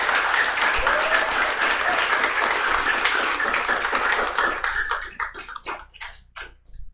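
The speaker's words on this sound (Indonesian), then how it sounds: "tepuk tangan untuk teman-teman kita" Applause from a youth Easter gathering at a church fills the hall, dense and steady for about five seconds before thinning into scattered last claps.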